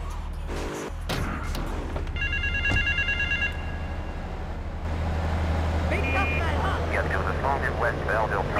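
A payphone rings in the video game GTA 3, with repeated electronic bell bursts that sit under game dialogue, engine drone and background city noise.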